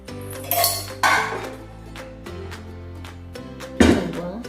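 Metal ring and container set down inside a pressure cooker holding water, producing a few close clanks and metallic clinks with brief ringing tails.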